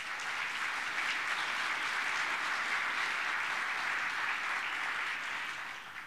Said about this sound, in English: Please give a round of applause for all of our nursing instructors.